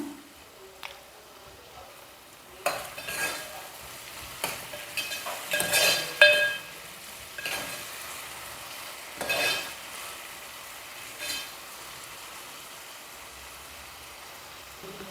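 Onions with curry leaves and salt sizzle faintly in a pan for mutton kheema, with soft frying hiss and several louder scraping stirs in bursts, close and quiet, no talk.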